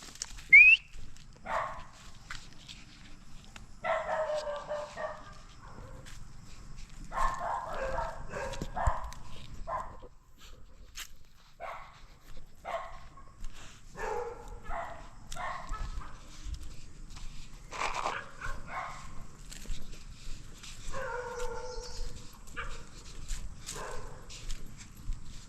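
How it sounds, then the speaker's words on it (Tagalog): A dog barks outdoors during a walk through a chili farm: scattered bursts of barking, moderately close, with footsteps and rustling underneath. "May aso."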